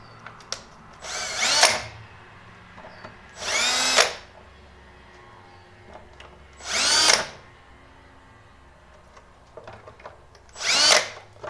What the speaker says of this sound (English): so I don't want to drill all the way through yet